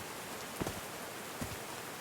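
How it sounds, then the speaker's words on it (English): Rain falls steadily in the Call of the Sea video game, a soft, even patter of drops on surfaces with a couple of slightly louder splashes, heard alone. "These drops of rain are so refreshing."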